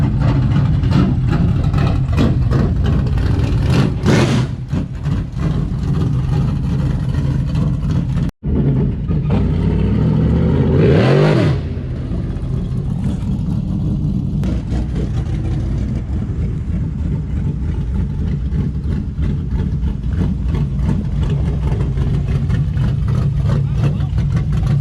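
A car engine runs and revs while the car drives around a yard after a quickchange spool replacement. The rumble is continuous and fairly loud, with a brief cutout and a swelling rev partway through. Some talk sits under it.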